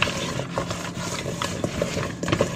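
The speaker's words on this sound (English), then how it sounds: "Mix all this good together" Ingredients get mixed together in a bowl with a utensil, producing close, continuous stirring and scraping with small irregular clicks.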